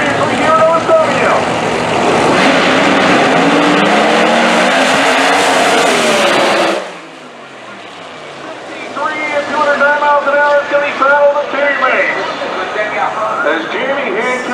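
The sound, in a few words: nitrous drag racing car driving by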